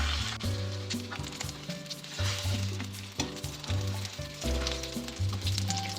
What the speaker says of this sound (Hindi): सारे कबाब को इसी तरह से अंडे में डिप करके मैं फ्राई कर लूंगी।